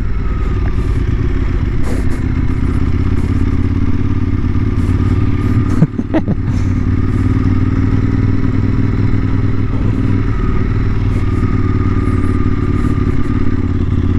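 A motorcycle rolls slowly through a deserted pedestrian zone on Easter Sunday, its engine holding a steady, close, loud drone with a brief clatter midway and no talking.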